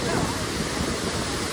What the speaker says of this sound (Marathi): पाणी एवढ्या उंचावरनं पडतोय ना खाली,